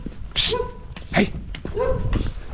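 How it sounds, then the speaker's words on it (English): Village dogs on the Annapurna trek in Nepal bark and yip in a few sharp, close bursts, mixed with rustling and outdoor noise. "First obstacle is getting through the village of all these dogs."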